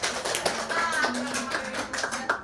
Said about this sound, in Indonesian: Tepuk tangan dong buat teman-teman